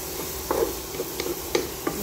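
Onion and garlic frying in a pan, stirred with a utensil: a steady soft sizzle under a few light scraping taps and clinks, close and moderately quiet, with no talk.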